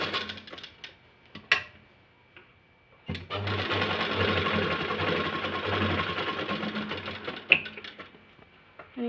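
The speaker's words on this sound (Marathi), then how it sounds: "आपल्याला फक्त हा जो ट्रायंगल शेप आपण कट केला आहे तेवढा शेप आपल्याला इथं शिवून घ्यायचा आहे" A sewing machine stitches a triangle-shaped section of blouse lining in one steady run of several seconds, loud and close, framed by brief handling clicks and rustles of fabric before and after.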